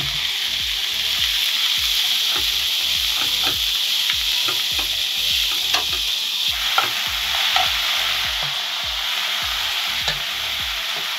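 Capsicum and tomato stir-fry in a pan, with a steady sizzle under quick, rhythmic spatula scrapes and strokes that repeat close by throughout.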